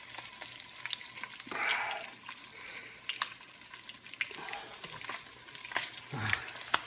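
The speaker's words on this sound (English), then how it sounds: "Sizzling really good." Spam slices frying in hot oil in a pan, giving a steady close sizzle with a few louder crackling bursts and faint scraping or stirring, with no talk.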